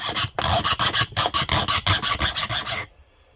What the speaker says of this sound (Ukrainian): Беремо напільника з такого надфілька, обично китайського. Просто пробуємо.